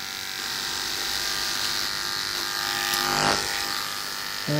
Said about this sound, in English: Reverse the grip of the clipper